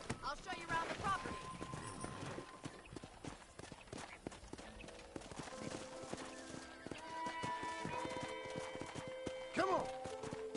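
Horse hooves clip-clop at a steady riding pace in a video game, with a voice talking over them and a tonal backing underneath.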